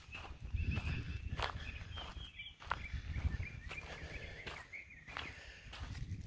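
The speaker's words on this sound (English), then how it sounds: "The mockingbirds are going insane." Mockingbirds sing continuously in the background at Fort Pickens, Florida, their chirps running steady behind louder nearby footsteps on a hard surface.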